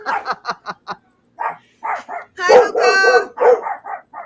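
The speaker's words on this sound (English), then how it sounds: "my dogs are upset." Dogs at home bark in quick bursts, close and loud, with short yips and a longer whining bark run in the middle, separated by brief pauses.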